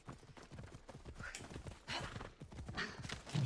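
Horse hooves clip-clop at a steady trotting pace in the video game Assassin's Creed Odyssey, with a brief whinny, moderately close and fairly quiet over a soft ambient backdrop.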